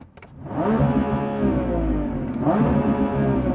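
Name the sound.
Lamborghini Revuelto engine revving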